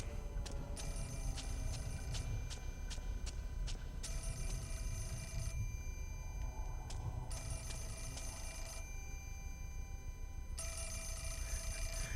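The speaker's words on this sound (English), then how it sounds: "we're gonna have to listen to the phone" A telephone rings in the video game Fatal Frame 4, repeated bursts of bright trilling bells separated by short gaps, heard faintly over a low steady background hum with no talking.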